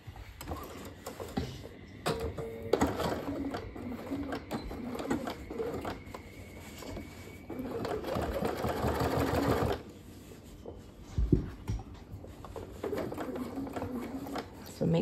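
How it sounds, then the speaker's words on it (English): A home sewing machine top stitches fabric around curves and sides, running in bursts of rapid mechanical stitching with pauses between, while a person talks over it. "I'm going to top stitch from the edge here and go all the way around and finish there."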